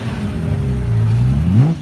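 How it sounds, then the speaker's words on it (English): A classic Aston Martin at the Goodwood Revival revs its engine while pulling out, a loud, close mid-pitched roar that climbs steadily in pitch toward the end, with no talking. "look at this Aston Martin just pulling out now."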